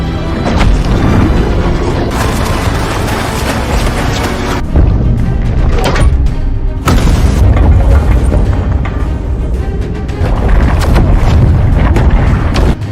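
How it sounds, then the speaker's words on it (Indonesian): A loud, sustained roar of explosive blasts and rumbling booms, with several sharp bursts breaking through the continuous thundering noise. "Dan benar, meledak."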